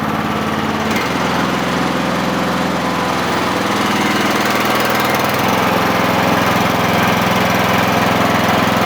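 A mini excavator's engine runs loud and steady at close range while its hydraulics are cycled during a leak check, the drone shifting pitch twice as the load changes.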